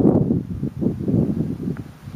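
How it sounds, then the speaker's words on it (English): Outdoor wind rustles through leaves in soft, uneven gusts that swell and fade, with low buffeting against the microphone. "the beautiful wind is helping us"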